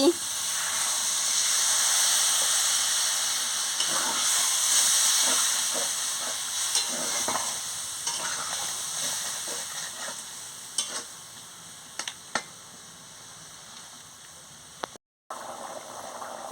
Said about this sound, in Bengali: বন্ধুরা দেখুন কি সুন্দর টকবক করে ফুটছে